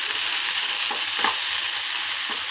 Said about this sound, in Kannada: ಎಲ್ಲ ಸೊಪ್ಪು ಹಾಕ್ಕೊಂಡು ಸ್ವಲ್ಪ ಸೊಪ್ಪು ಬಾಡಿಸ್ಕೋಬೇಕು